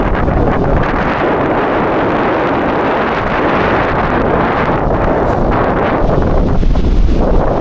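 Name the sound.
strong wind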